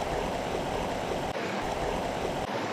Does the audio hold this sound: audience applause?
no